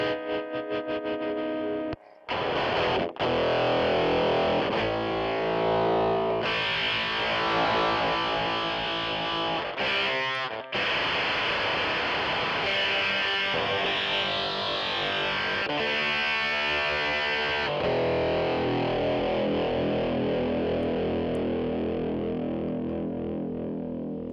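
Loud, heavily distorted guitar chords with a harsh, snarling, aggressive edge, played continuously with brief breaks and effects-laden texture.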